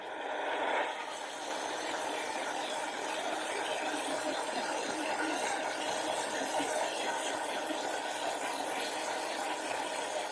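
A lidded blender whirs through a coconut milk shake with a steady, fairly soft motor hum and liquid churn, unbroken from start to finish.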